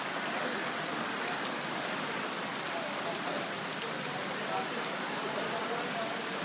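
Heavy stormy rain pours down steadily in Lahore, a dense continuous hiss of drops hitting surfaces, loud and unbroken throughout with no clear voices.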